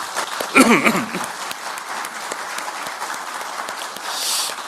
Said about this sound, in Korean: 고생하신 이재명 대통령께 큰 박수를 부탁드립니다.